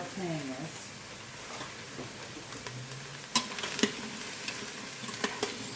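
Onions and celery sauté in an Instant Pot with a bay leaf for vegan lentil soup, giving a steady sizzle with stirring scrapes and a few sharp clinks from a utensil against the pot.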